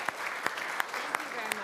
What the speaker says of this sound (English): This concludes tonight's very special applause.